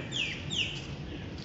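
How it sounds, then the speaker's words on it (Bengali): Several birds chirp and call from trees shading an outdoor canteen in Pondicherry, with two clear descending tweets standing out over a soft, steady background murmur. "পাখি ডাকছে।"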